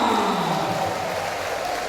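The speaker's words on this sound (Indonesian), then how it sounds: "Tepuk tangan untuk jemaah" Seminar audience of church lay leaders giving a burst of applause, a loud dense wash of many hands clapping that holds steady for a couple of seconds.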